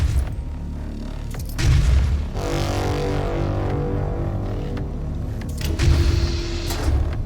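Grenade blasts in Doom (2016), deep booming explosions with rumbling tails, one heavy hit early and another near the end, over a steady low game backdrop.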